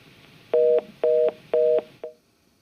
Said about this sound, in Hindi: चलिए लगता है डॉक्टर संजय का फोन डिस्कनेक्ट हो गया है।